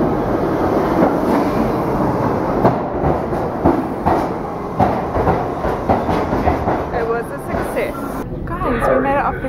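A New York City subway train rumbles along loudly with rhythmic clacking of wheels on the rails, and people talk faintly underneath the din.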